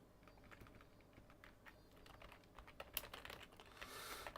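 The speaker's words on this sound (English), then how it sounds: "I'm just typing a little description here." Steady typing on a computer keyboard, with quick irregular key clicks that are soft and close, continuing throughout without any talking.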